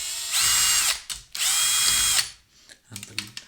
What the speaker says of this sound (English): let's try to remove those screws and see if we can remove